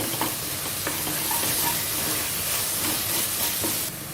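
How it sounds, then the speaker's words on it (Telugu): Spices sizzling in a hot pan for tomato rice: a dense, steady frying hiss that fills the whole stretch, with faint stirring scrapes and no voices. "ఇప్పుడు మళ్ళీ ఒక నిమిషం ఫ్రై చేసేసుకోవాలి"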